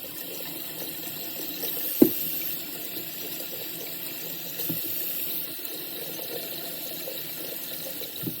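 Tap water runs steadily into a sink while potatoes are rinsed, a continuous hissing wash of water with one sharp knock and a couple of soft thuds.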